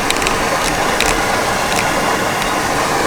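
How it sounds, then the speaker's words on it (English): Steady broadband rushing of flowing water, constant and fairly loud, with a few faint clicks on top. "It's like a stream down there, which is why it's so noisy."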